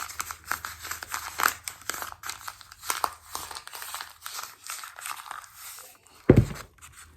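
Sheet of paper folded by hand into a seed-starting paper pot: close, crisp crinkles and soft creasing rustles in irregular bursts, ending with a sharper crumple.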